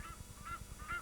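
Egyptian geese at Lake Nakuru in Kenya give three quick nasal honks in a brief burst, fairly close and clear over quiet background.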